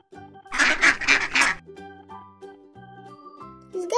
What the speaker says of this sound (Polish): Zgadza się, to jest kaczka.